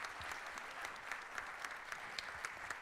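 Applause for author Sameer Kelkar at a university interaction event, a modest crowd clapping steadily with a few sharper individual claps standing out, fairly quiet and without speech.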